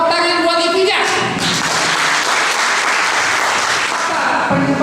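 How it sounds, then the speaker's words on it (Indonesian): A seminar audience on a college campus breaks into loud, dense applause that sustains for several seconds, with a voice heard just before the clapping swells and again as it trails off. "Tepuk tangan buat Ipija."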